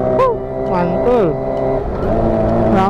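A Kawasaki ZX25R motorcycle engine revving repeatedly in short rising bursts while riding slowly through a busy market, loud and close, with a voice speaking between the revs.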